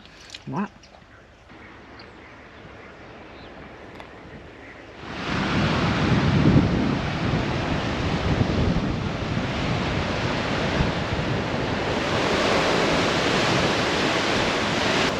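Strong wind roars across the microphone, starting suddenly after a few quieter seconds and staying loud and buffeting to the end.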